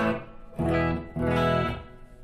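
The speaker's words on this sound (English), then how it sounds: "that's some reverb from the Sans amp" Two sustained clean electric guitar chords through a Tech 21 SansAmp on a Fly Rig 5, bright with a reverb tail washing out after each strum.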